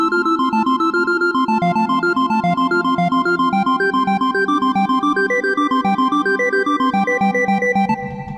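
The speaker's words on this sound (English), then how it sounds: "I've created this little arpeggio patch right here," A synth arpeggio patch in Reason's Maelstrom wavetable synthesizer, built on a sine wavetable, plays fast, evenly spaced stepping notes in a bright, steady pattern that climbs and falls, loud and alone before briefly fading at the end.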